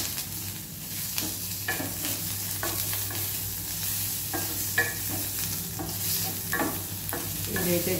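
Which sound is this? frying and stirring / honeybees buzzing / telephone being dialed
frying and stirring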